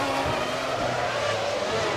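Formula One cars racing through the streets of the 2000 Monaco Grand Prix, a McLaren chasing a Jordan, with a steady high engine whine and a blurred wash of crowd and track noise, continuous at moderate distance.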